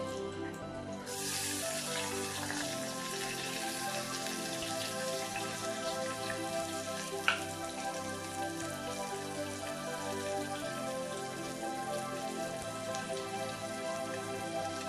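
Onions and curry leaves frying in oil in a pan for chicken pepper masala, a steady dense crackling sizzle that holds evenly throughout, close and moderately loud with a single brief click midway.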